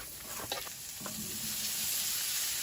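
Food with red pepper flakes frying in a pan inside a hot tent during winter camping, a steady hiss with a few clinks and scrapes of stirring early on, fairly faint.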